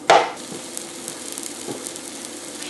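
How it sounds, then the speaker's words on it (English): Shallots and garlic stir-fried in a hot wok, opening with a loud sizzling burst as they hit the oil, then settling into a softer steady crackle with light stirring taps. "just stir fry them until it's about a minute or so, or until the aroma comes out"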